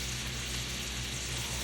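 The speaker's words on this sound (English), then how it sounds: "Then we're gonna start frying our salmon up because everything else is ready. So that's a little butter and a little oil." Salmon fries in a pan of butter and oil, a steady bright sizzle that fills the short stretch without pause, close and even.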